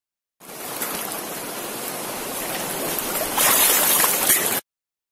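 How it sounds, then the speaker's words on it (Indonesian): Waterfall and river at Bukit Lawang in Sumatra, a steady, loud broadband rush of falling water that brightens and grows stronger toward the end before cutting off abruptly. "Ini dia teman-teman, air terjunnya."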